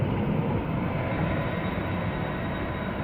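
Tyne and Wear Metro train at North Shields station, a continuous loud rumbling roar of a passing or arriving train, steady throughout with no talking.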